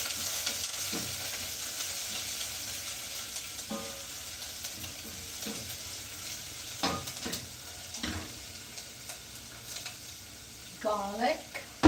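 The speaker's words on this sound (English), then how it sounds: "when you saute the onion with the olive oil and garlic" Onion sautéing with olive oil and garlic, with a soft constant sizzle under scattered utensil clicks and scrapes, while a voice speaks briefly near the end.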